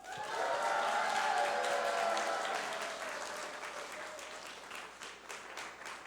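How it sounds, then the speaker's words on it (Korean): An audience at a summer retreat talk show breaks into loud, sustained applause and cheering that gradually softens over several seconds. "큰 박수와 환호성으로 시작해 보겠습니다"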